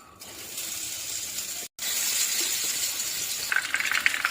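Idli pieces dropped into hot oil for egg chilli idli, giving a steady close sizzle of frying with a brief gap, then brighter crackling spits near the end; no talking.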